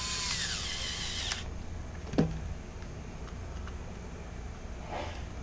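A cordless power tool briefly whirs to run a screw into the cover of a Husqvarna, Jonsered or Redmax chainsaw, a short high burst close by, followed by faint clicks and handling noise.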